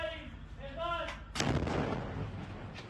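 Airstrike in Gaza: a sharp, heavy blast bursts out midway, rumbling and decaying over a second or so, preceded by faint voices and distant background noise.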